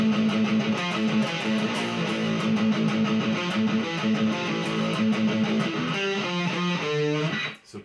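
A distorted electric guitar plays a steady, repeating verse riff on its own, loud and sustained, with a brief shift in the pattern near the end.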